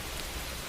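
Steady rain falling in a storm, a dense, even hiss of drops with a soft low rumble underneath, constant and unbroken throughout.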